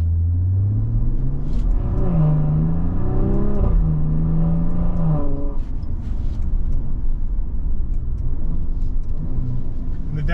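A 2023 Maserati Levante Modena SUV engine revs hard under acceleration, its loud, steady tone climbing and then dropping sharply at quick gear shifts, with a continuous rumble throughout.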